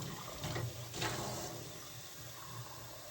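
Water runs steadily from a tap or hose while a morning drink is fetched for Pink, a continuous rushing stream with a couple of brief splashy surges near the start, close and unbroken throughout.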